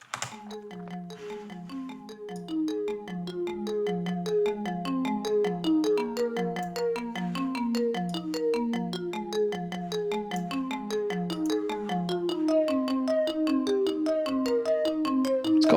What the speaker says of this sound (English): marimba, that whole family of sounds just work really well with these Korg workstations